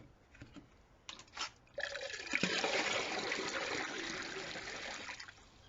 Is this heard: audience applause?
no